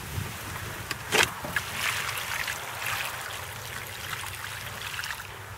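Water pouring onto the soil around a newly planted corkscrew willow, a close splashing and trickling flow with a brief louder splash near the start, then a steady wash.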